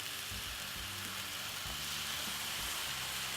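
Cornmeal and coconut milk cooking in a pot on a stove, giving a faint, steady sizzle and soft bubbling hiss with a low hum beneath.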